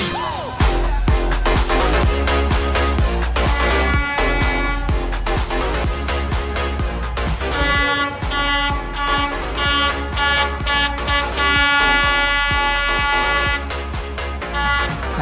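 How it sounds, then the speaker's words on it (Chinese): A train in Hanoi passes very close by, sounding loud, repeated horn blasts over a heavy rumble that fills the whole stretch. "大家就跟我一起体验一下火车近距离擦身而过的刺激感吧"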